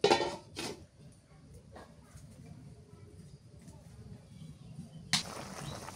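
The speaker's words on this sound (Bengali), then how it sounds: "ঢাকনাটা উঠাই নিলাম" Metal lid lifted off a pot of cooking cauliflower, a bright clatter at the start, quiet simmering in between, then another clink of metal near the end.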